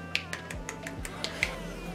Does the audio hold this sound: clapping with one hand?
yes